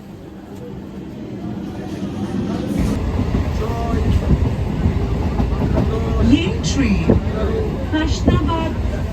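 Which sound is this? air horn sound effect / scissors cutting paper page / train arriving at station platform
train arriving at station platform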